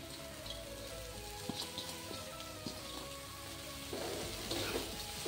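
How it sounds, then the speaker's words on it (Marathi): Chopped coriander sautés in roasted masala in a pan over a medium flame, giving a steady, faint sizzle and crackle with occasional soft stirring scrapes and no voices. "मीडियम फ्लेमवर आपल्याला गॅस ठेवायचा आहे आणि आपला कोथिंबीरसुद्धा मसाल्यात परतून घ्यायचा आहे"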